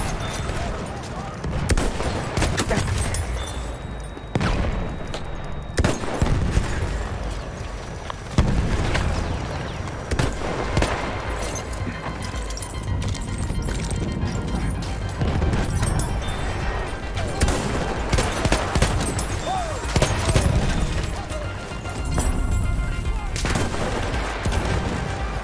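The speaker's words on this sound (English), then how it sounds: "probably the most used sniper rifle on Battlefield 1" Sniper rifle gunfire in the video game Battlefield 1, with sharp shots and crashing impacts scattered through a dense, noisy battle mix that continues throughout.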